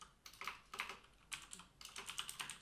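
A URL being typed on a computer keyboard, with quick clusters of soft, close key clicks in uneven bursts and brief pauses, faint and with no talking.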